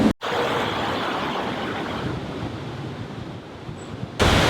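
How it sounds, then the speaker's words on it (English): Heavy wind roars across a microphone in a small grassy Hong Kong park, a loud, continuous blustery rush with no one speaking, cut off sharply at both ends. "the wind is just way too heavy"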